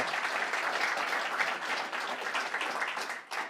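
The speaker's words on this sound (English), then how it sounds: "we'll get a round of applause" An awards ceremony audience at the Fingal Enterprise Awards claps for finalists, a steady, fairly dense round of applause that dips briefly near the end before picking up again.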